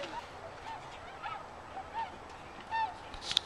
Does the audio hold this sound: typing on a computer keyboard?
no